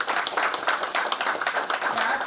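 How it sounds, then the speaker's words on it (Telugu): Quieter, uneven clapping from an audience at the Tax Filling India 10th annual day at T-Hub Hyderabad, with scattered sharp claps mixed with voices. "గట్టిగా క్లాప్స్ కొట్టి"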